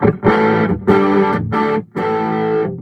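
An overdriven electric guitar on the bridge pickup of a Maton Mastersound, played through a Fender Deluxe Reverb: four loud, gritty sustained chords, each ringing out before the next strike, with no talking.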